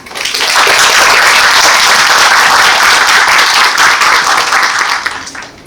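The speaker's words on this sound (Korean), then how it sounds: "큰 박수로 맞이해 주시면 감사하겠습니다" Audience at a university presidential candidates' policy presentation in Busan breaks into loud, sustained applause, many hands clapping in a dense, even wash that swells quickly, holds strong, then tapers off toward the end.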